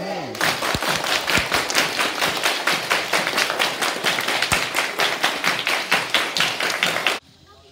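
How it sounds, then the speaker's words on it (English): A crowd claps hands in a steady rhythmic beat at a wedding celebration, many hands together, loud and close, for about seven seconds before stopping abruptly. "everybody clap their hands."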